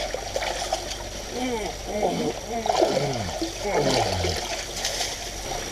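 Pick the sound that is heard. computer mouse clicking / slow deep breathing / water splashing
water splashing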